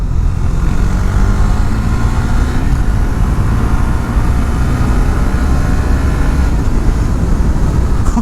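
A 2019 Husqvarna Svartpilen 401 single-cylinder motorcycle engine braking on a back road, its steady rumble loud and continuous under heavy wind and road noise.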